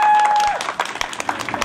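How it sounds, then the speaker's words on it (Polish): Scattered, brief clapping from a small crowd at a family picnic follows a short tone, with sparse hand claps rising and fading. "Także wielkie brawa od razu dla nich."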